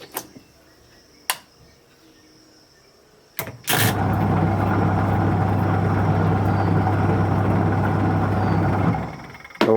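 An eight-year-old washing machine starts up after a few knocks and clunks, then runs with a loud, steady motor hum and churning rumble that continues unbroken for about six seconds before stopping.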